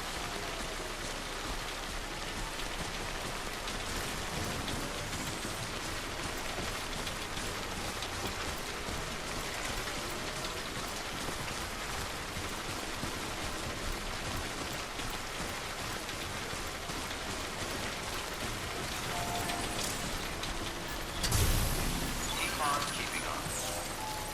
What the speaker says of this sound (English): Let's see if I can wait out the rain.